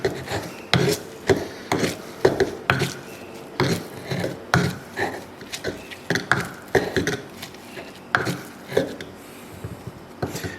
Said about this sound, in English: I'm just going to grind this together for a bit.